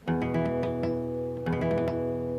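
A guitar chord is strummed twice, each strike sounding dull and buzzy with muffled strings, ringing briefly under a faint hum.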